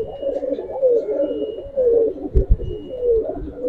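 A frightened female Giribaz pigeon calls in repeated low cooing phrases, fairly close and steady, with a few brief knocks partway through.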